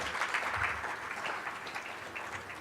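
Applause from a university faculty audience at a Penn State event, a steady, moderately faint wash of clapping held throughout with no talk over it.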